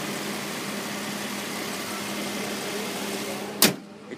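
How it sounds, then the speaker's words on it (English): A 2010 Infiniti FX35's 3.5-litre V6 engine idles with a low, even hum throughout, close by, ending with a sharp knock followed by quieter background. "The engine."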